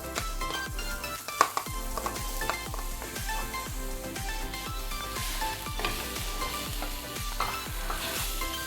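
Samosa filling of potato and green peas stirred and frying with masala in a pan, a soft sizzle under regular scraping strokes of a spoon against the metal, repeating at a steady rhythm throughout.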